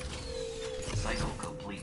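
Printer machinery in the video game The Callisto Protocol gives a steady mechanical hum with creaking, whirring movement throughout, and a faint voice sits in the background.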